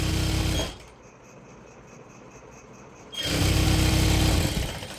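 A sewing machine stitches the main fabric of a maxi dress, running loud and steady, pausing briefly to a low hum, then resuming at full speed.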